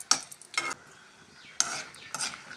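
Chillies being stirred and fried in a pan for gongura pachadi, with a few distinct bursts of scraping and sizzling separated by short pauses, close and moderately quiet.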